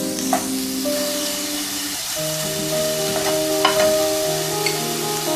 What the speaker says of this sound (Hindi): चिकन को इसमें इतनी देर तक सौते करेंगे कि ये सेमी टेंडर हो जाए।